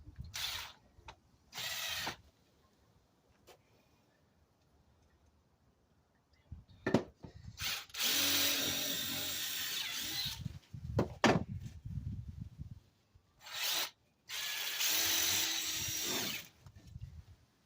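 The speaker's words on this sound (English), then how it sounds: "when you drill it out, it's about in the center" A power drill whirs in several bursts while drilling pilot holes in wood, short ones first, then longer sustained runs, close by with clunks and handling noises between.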